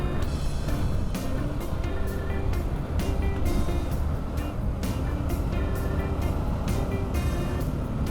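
A Hero Splendor motorcycle cruises steadily along a road, its engine drone and wind rush loud and constant throughout, with no break in the noise.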